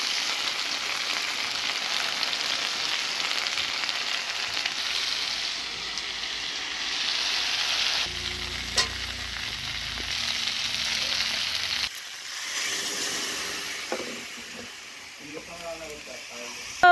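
Food fries in a pan during home cooking with a steady, close sizzling hiss throughout. Occasional stirring scrapes and light clinks break in toward the end.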